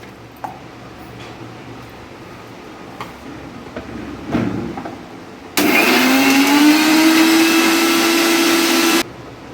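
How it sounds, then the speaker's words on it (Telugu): A mixer grinder grinding cashews, poppy seeds and garlic starts up abruptly after some quiet kitchen clatter, whirring loudly and steadily for a few seconds with a rising motor whine, then stops. "ఫస్ట్ ఇది మిక్సీ చేసుకుందాం"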